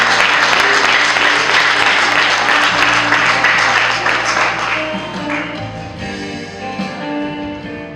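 A church congregation applauds loudly to welcome the pastor, with dense sustained clapping that thins and fades over the last few seconds as the applause dies down.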